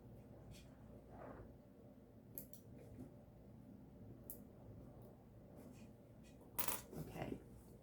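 Scissors snip thread ends on a sewn mini backpack in quiet, scattered clicks and short crisp cuts against a soft background hush, with a slightly louder rustle near the end and no talking.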